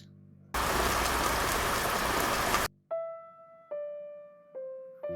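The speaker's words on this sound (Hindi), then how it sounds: "बस ये बारिश किसी तरीके से बंद हो जाए" A burst of heavy, steady rain hisses for about two seconds, then stops, followed by a few sustained musical tones.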